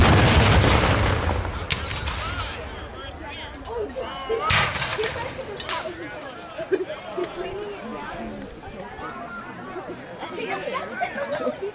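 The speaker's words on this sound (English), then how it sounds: "The guns you see here are mountain howitzers." Mountain howitzers fire at a Civil War battle reenactment in a park, a loud boom at the start and another midway, with sharp reports rolling through the air under crowd chatter and nearby voices.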